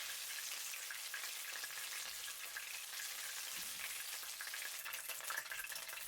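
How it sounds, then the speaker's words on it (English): Chicken pieces fry in an oiled pan for chicken and cashew fried rice, giving a dense, even crackling sizzle that runs unbroken and fairly quiet throughout. "The surface of the chicken pieces will be grilled with a delicious flavor."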